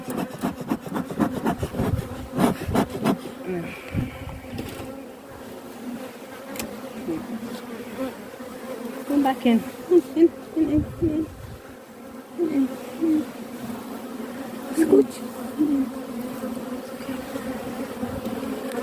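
Honeybees buzz in a low hum around a hive, with scraping and knocking of wooden frames and a few soft spoken words.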